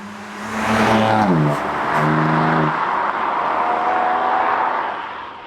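BMW F80 M3 sports saloon on lowering springs, accelerating through the gears from inside, with engine notes climbing, dropping at shifts, then settling into a steady loud cruise drone.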